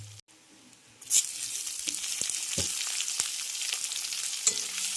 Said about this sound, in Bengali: এবার ওই তেলের মধ্যেই আমি মশলাটাকে কষিয়ে নেব, তার জন্য দিয়ে দিচ্ছি কুচিয়ে রাখা পেঁয়াজ।